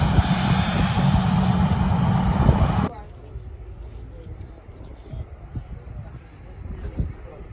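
Jet airliners, Airbus A320neo and A330, at Manchester airport give a loud, close roar that cuts off abruptly and leaves a quiet outdoor background with faint rumble and someone talking.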